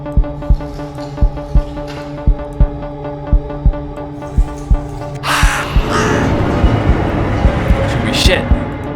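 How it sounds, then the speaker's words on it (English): A bird caws repeatedly in a visual novel game, loud and close, in an even rhythm of about a dozen harsh calls over a low hum, then a sudden noisy rustling burst takes over. "Why did this stupid bird scare me?"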